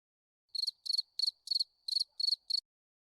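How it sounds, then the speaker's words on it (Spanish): A cricket chirps alone in silence, seven short pulsed bursts in an even rhythm, close and clear. "Solo el grillo"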